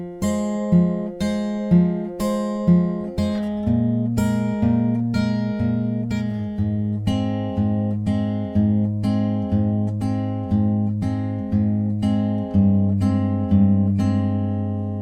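Guitar picking pattern from a song, individual plucked notes ringing over one another in a steady, even rhythm, clear and close with no talking.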